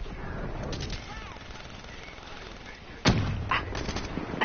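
Pistol gunfire in an online shooter game: a loud close shot stands out against steady game background noise, followed by a few fainter shots.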